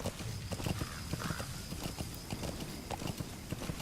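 Rapid, rhythmic hoofbeats of a trotting horse clip-clopping continuously over a busy background of game sounds in Metal Gear Solid V: The Phantom Pain.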